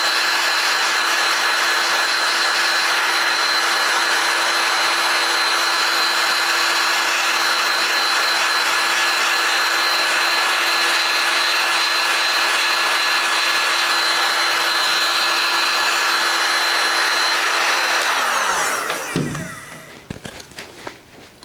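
A loud hot air tool blows continuously while heating a pink plastic part, a steady roaring whoosh with a faint tonal hum that runs for about eighteen seconds, then cuts off, leaving quiet handling noises.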